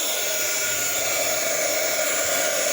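A heat gun blowing steadily on a painted Halloween pumpkin, a continuous close, loud hiss and whir with no break.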